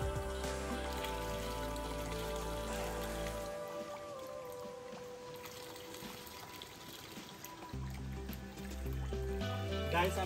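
Natural spring water runs in a continuous rushing trickle outdoors in the province, steady and fairly close, with a low hum and a faint tonal background throughout.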